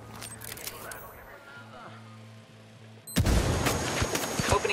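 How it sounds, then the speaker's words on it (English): Gunfire in Ghost Recon Wildlands breaks out after a quiet stretch, a dense burst of loud shots and crackling impacts that keeps going to the end, with game talk faintly underneath. "Opening fire."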